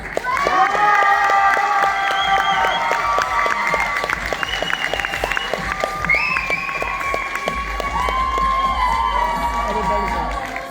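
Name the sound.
audience applause and cheering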